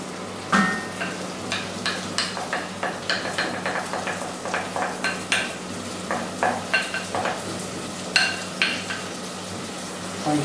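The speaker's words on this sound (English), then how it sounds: "And give a stir" Tomato puree stirred into a curd curry with okra over the flame, with a steady series of spoon scrapes and clinks against the pot over a soft background sizzle, close and regular.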